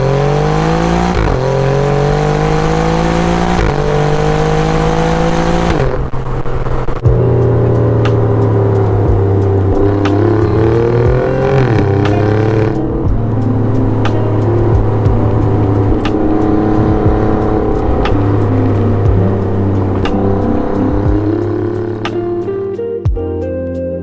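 From inside an Alfa Romeo Giulia Quadrifoglio with 120,000 miles on it, the engine drones loudly and steadily the whole way through, rising and falling through gear changes as the car is driven, with no talking.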